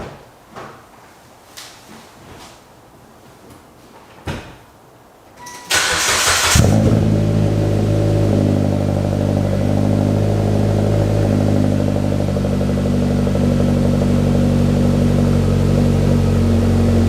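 A 2015 Mitsubishi Lancer GT on a cold morning: a few soft clicks and knocks, then the starter catches and the engine fires up loudly. It settles into a steady, close, humming idle.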